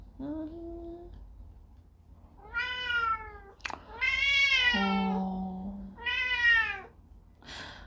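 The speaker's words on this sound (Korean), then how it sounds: "저희 집 고양이가 다시 울기 시작했고요." A house cat meows several times, drawn-out tonal cries with short pauses between them, close and clear over a faint low hum.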